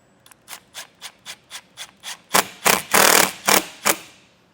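A screw is driven into an RV rain gutter spout on a 2016 Dutchmen Kodiak travel trailer in a quick series of short rhythmic bursts from a power driver, growing louder and longer toward the end.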